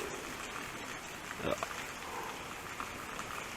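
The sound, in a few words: waterfall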